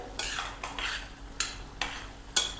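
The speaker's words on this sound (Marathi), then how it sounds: "यामध्ये चवीपुरतं मीठ घालून घ्यायचं आहे। छान मिसळून घेऊयात" A spoon stirs raw mango curry with jaggery and salt in a pan. Several separate scraping, swishing strokes, each a short hissy sweep, come close and fairly quiet with a faint sizzle, and no talk.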